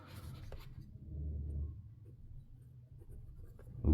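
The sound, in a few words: pencil writing on paper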